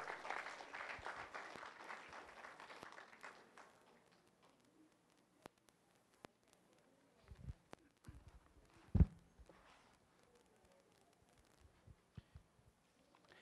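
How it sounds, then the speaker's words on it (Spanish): An audience applauds to welcome Justice Javier Aníbal Moya Cuadra of the Court of Santiago, Chile, at a conference: dense clapping for about three seconds that fades away, followed by scattered knocks and a single sharp thump in a quiet room. "Recibamos con fuertes aplausos al ilustrísimo ministro Javier Aníbal Moya"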